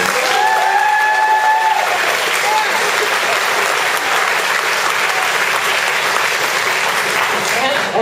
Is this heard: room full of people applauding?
yes